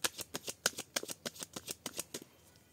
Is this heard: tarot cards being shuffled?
yes